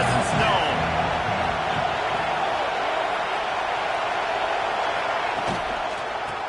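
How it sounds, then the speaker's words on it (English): A football stadium crowd at a Georgia Bulldogs versus TCU Horned Frogs game roars in a loud, sustained wash of noise, with a commentator talking over it. "This crowd ready to make its presence known."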